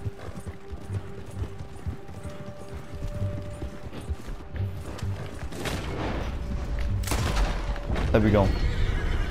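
In the video game Red Dead Redemption 2, a horse's hooves clop along with faint mechanical rattling, then a loud, close whinny breaks out near the end.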